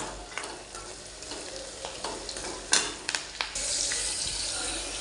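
Hot tempering is poured into a pan of fish curry, giving crackling sizzle bursts and a few sharp pops, then a steady hiss that rises and holds near the mic.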